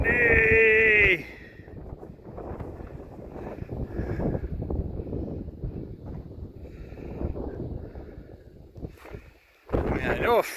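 Strong gusty wind on a cold, exposed mountain climb to the summit of Black Mesa, roaring steadily against the microphone for most of the stretch, with louder tonal wind bursts at the start and end.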